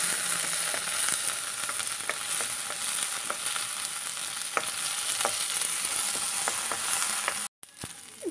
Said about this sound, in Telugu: కొద్దిగా వేగినాక కొద్దిగా చింతపండు వేసుకుందాం। ఒక నిమిషం పాటు వేగనిద్దాం।